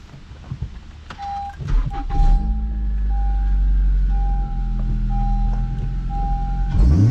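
A 9th-generation Honda Civic Si with a downpipe feeding the stock exhaust idles with a steady low rumble, then rises into a sustained rev that holds loud and close before settling, no voices over it.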